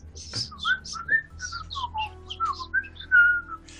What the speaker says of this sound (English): You think of something to whistle and you come up with the Archer's theme?